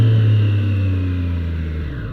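Triumph Street Triple 765 motorcycle engine at high revs, a loud close steady roar with a strong low drone that slowly falls in pitch as the revs drop.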